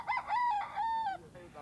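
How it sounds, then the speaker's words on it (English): A single rooster crows loudly and close by, one long drawn-out cock-a-doodle-doo that rises, holds, and then trails off. "condition their many roosters to become fighting cocks"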